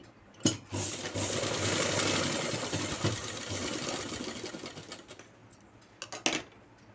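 Sewing machine stitching night pants, a fast continuous mechanical whir running for several seconds, preceded and followed by a few sharp clicks and thumps, close and moderately quiet.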